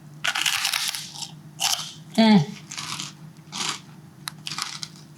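Crisp crunching of a crunchy caramel-flavoured snack being bitten and chewed up close, in several short bursts with one sharper crunch, while a person talks in between.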